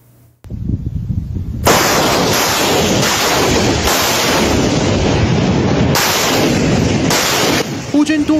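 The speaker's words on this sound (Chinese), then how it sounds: "乌军多管火箭先轰一轮" Ukrainian multiple rocket launcher barrage firing: a sustained, loud roaring blast that erupts after a short quiet start and keeps rumbling with repeated surging bursts, like several rockets launching in close succession.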